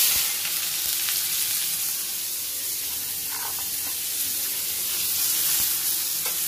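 Onions frying in a pan with panch phoron, bay leaf and chillies, a steady broad sizzle holding throughout with faint scrapes, no talking.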